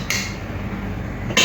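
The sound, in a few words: pot lid being placed on cooking pot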